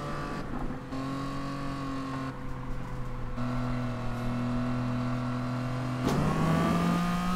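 A TVR sports car engine revs in a racing video game, with sustained tonal engine notes that climb and shift as gears change, a sharp jump near the end, and no voices.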